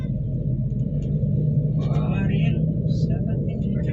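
Steady low rumble inside a blue Bintang Asri bus travelling from Morowali to Makassar, a continuous engine and road drone heard throughout with faint voices and rattles above it.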